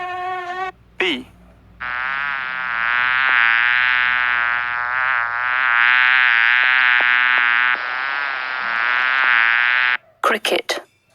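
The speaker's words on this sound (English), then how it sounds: "bee," A bee buzzes in a loud, continuous, close drone lasting around eight seconds, and short spoken words come just before and after it.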